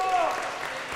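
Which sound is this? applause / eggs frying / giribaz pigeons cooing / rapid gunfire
applause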